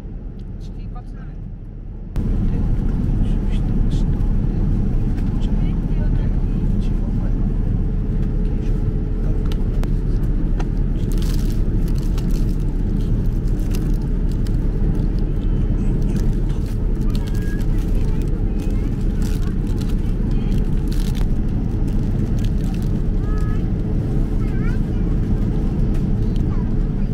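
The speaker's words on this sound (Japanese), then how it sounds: "着陸しました。" An airliner lands, a loud, continuous cabin rumble that begins abruptly and holds steady, with people talking over it.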